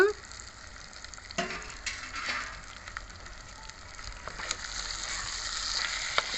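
Konam fish pieces frying in stone-ground ginger garlic paste for a fish puttu: a soft continuous sizzle broken by a few scraping stirs and utensil clinks, no talking.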